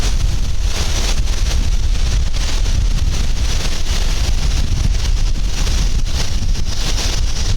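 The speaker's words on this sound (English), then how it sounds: "Let the wind die down." Strong wind blows steadily outdoors across open fields in Ohio ahead of a storm, a loud, constant roar with gusty buffeting against the microphone throughout.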